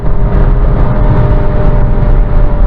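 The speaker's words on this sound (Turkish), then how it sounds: "Şu an 3. viteste 6000 devire geldik." A Volkswagen Polo 2020 1.0 TSI DSG engine revs hard in third gear near 6000 rpm at speed on the road, a loud steady droning roar with wind and tyre rumble throughout.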